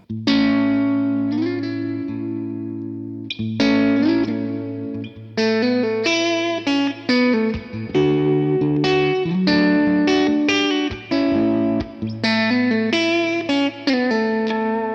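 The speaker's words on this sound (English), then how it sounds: "Let's hear the middle pickup now." An electric guitar, a Fender Telecaster on its middle pickup, plays a run of picked chords and single notes with a warm, moderately driven tone and some effects, loud and close, with brief pauses between phrases.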